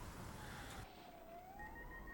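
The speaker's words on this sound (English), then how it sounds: "Oh, we got police sirens." A police car siren wails in Train Simulator 20 on the North London Line, a steady rising and falling tone over continuous train running noise, moderately distant and fairly clear, with no talking.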